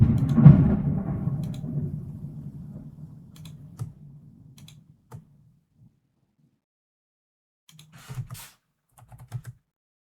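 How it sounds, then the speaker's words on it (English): A deep roll of thunder rumbles loudly and slowly fades away over several seconds, followed by near silence and then a few scattered soft clicks and taps nearby. "did you all hear that? That thunder? That was pretty good."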